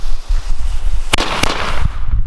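Two loud, sharp Röder Titan salute firework bangs crack out in quick succession, then echo and fade against outdoor background noise.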